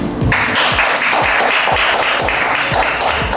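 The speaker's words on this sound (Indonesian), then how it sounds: "Tepuk tangan dulu." Hands clap along with a steady repeated beat in a classroom, close and loud, settling into an even rhythm of strikes against a noisy room.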